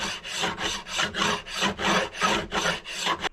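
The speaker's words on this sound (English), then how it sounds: "we're just dressing some of the sharp fret ends." A file rasps across sharp fret ends on a ragged Epiphone acoustic guitar, about ten even back-and-forth strokes in a steady rhythm, close and alone.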